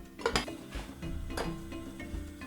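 A spoon scraping and clinking against a cooking pot while a thick courgette and tuber-flour soup is stirred, giving a few close, irregular metallic knocks over a low simmering rumble.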